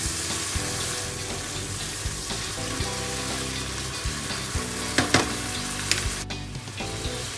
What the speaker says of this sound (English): you can take just a couple tablespoons of water and add that to the bacon, and it will slow the heat down so it doesn't cook too fast and burn